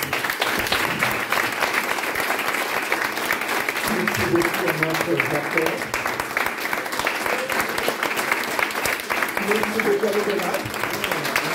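Audience at a French church theatre and music evening applauds loudly and steadily throughout, a dense wash of clapping beneath someone speaking into a microphone.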